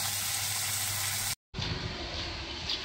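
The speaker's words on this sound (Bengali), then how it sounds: "তো জিরে ফোড়ন দিয়ে তো এগুলো ভাজতে বসিয়ে দিয়েছি।" Food frying in a pan with a cumin tempering, a steady loud sizzle and crackle that drops out for a moment and then comes back, with no talking.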